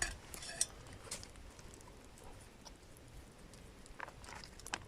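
Food being stirred in a pot with a utensil during an outdoor 24-hour survival challenge, giving faint scraping and clinking of metal against the pot, soft and irregular over quiet background noise.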